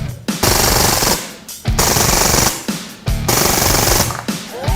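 A Beretta 92 air pistol fires on full auto in four loud, close bursts of rapid rattling shots, each lasting about a second, with short gaps between them and no talking.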